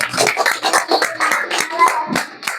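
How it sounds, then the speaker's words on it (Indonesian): Schoolchildren in an elementary classroom clap together for a student group after its presentation, a busy, uneven patter of hands close by with young voices mixed in. "kita beri tepuk tangan dulu buat kelompok 2"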